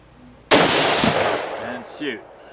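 A single loud, close rifle shot from a stock factory Ruger Precision Rifle fitted with a muzzle brake, a sharp blast with a long echoing decay and a faint clink of ejected brass afterward.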